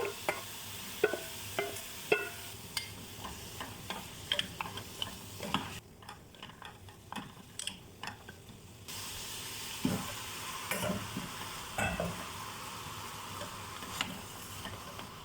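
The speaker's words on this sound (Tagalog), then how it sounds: "Unahin natin igisa yung carrots at potato." Carrots and potatoes sautéing in oil with onion for ground-meat guisado, a steady close sizzle punctuated by frequent clinks and scrapes of a utensil stirring against the pan, no talking.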